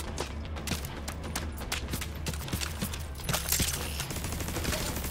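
Rapid gunfire with heavy recoil in The Division 2, repeated sharp shots in quick bursts over a low steady rumble, fairly close, with no talk.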